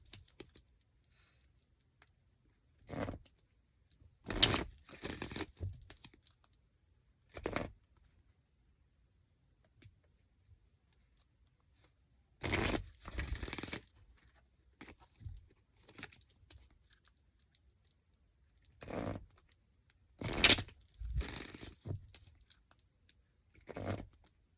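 Tarot cards are shuffled in short crisp bursts, riffling and snapping close by, separated by quiet pauses.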